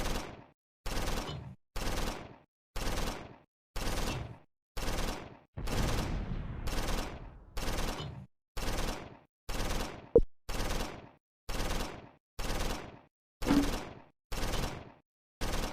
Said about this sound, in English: And the mortar reinforces with fire.